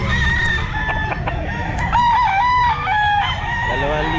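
Roundhead gamefowl rooster at a pet market crowing loudly and up close in repeated drawn-out calls, with clucking and other fowl sounds from the surrounding birds all around.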